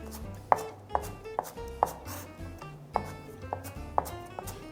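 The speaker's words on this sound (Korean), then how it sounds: "균일한 규격으로 채를 썰입니다" A knife julienning split green onion (daepa) on a cutting board for napa cabbage kimchi, prepared for a Korean cooking certification exam, gives a steady run of sharp, close chopping taps, roughly two per second, with no talk.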